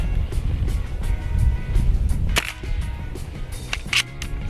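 A Crosman 2240 CO2 pellet pistol fires two sharp, snappy shots a couple of seconds apart, heard over a rumbling outdoor background noise.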